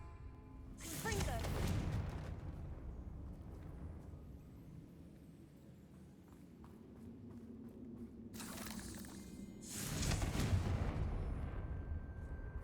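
Confringo fire spell blasts in the game Hogwarts Legacy: two loud, booming explosive bursts with fiery whooshes several seconds apart, a low rumbling combat ambience between them.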